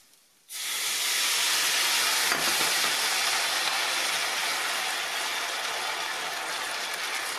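White wine poured into hot risotto rice with chanterelles bursts into a loud, sustained hiss of steam and sizzle that starts abruptly and holds steady for several seconds, with no talking.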